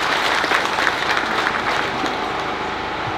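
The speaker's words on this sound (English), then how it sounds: "can all of us clap for these graduates?" An audience claps for graduates at a community ceremony, a full, even round of applause from many hands close by that gradually softens toward the end.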